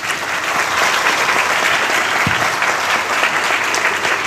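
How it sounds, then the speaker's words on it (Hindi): A crowd claps steadily and loudly for about four seconds at a Hindi-speaking Christian gathering, honouring Jesus, a dense sustained applause with no pause and no talk over it. "सबसे पहले एक अच्छी ताली यीशु के लिए"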